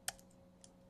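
A single sharp keystroke on a computer keyboard while a command is typed at an R prompt, followed by a fainter click around two-thirds of a second later, close and clear over a quiet background hum.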